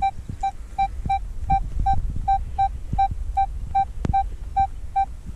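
A metal detector sweeping a field over a buried ring gives a rapid, regular series of short electronic beeps, loud and close, with soft rustling and handling thumps underneath.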